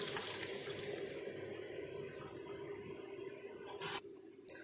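Water splashes briefly into a cooking pan of spinach curry at the start, then fades to a quiet hum with a couple of small clinks near the end.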